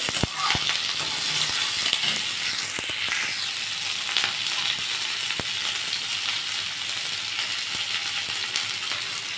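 Onions frying in a pan, a continuous bright hiss of sizzling oil, close and even, with a few sharp clicks of stirring.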